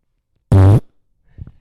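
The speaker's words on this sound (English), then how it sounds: "I fart. And this is not just like any fart." A single loud, close fart with a low buzzing tone, lasting about a third of a second, followed by faint rustling.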